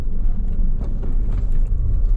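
A Tesla Model S Plaid slides its tail while drifting, giving a steady loud low rumble of tyres and road noise with faint squeal hints, no voices.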